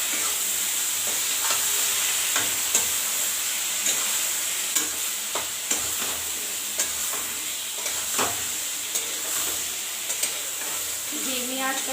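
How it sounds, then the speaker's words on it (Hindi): Paneer mixture being stirred and mixed in a sizzling pan: a steady hiss of frying under repeated light scraping and tapping strokes, close by, with a brief voice near the end. "अच्छे से मिक्स कर देंगे।"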